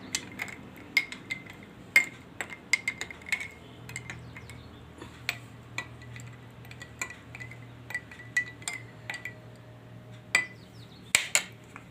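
A spoon clinks and ticks against a glass while lemon shikanji is stirred, making a string of light, bright taps over a low background hum, close by, with no voice.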